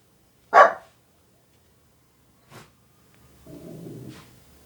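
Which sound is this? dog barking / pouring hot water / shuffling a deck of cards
dog barking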